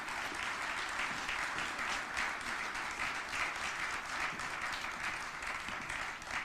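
Audience applause welcoming Li-Cycle CEO Ajay Kochhar at the Rochester Hub facility announcement. Dense, sustained clapping fills the whole stretch at an even, steady level, with no voices rising above it.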